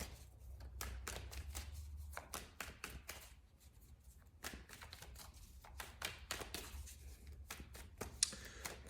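Tarot cards are shuffled repeatedly in quick riffling bursts, close and crisp, with short pauses between rounds and no talking.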